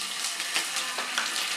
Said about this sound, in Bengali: একটা ফ্রাই প্যানে একটু তেল গরম করে নিয়েছি। এবার এর মধ্যে দিয়ে দেব একটু রসুন বাটা আর একটু